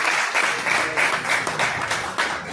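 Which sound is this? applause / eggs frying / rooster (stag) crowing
applause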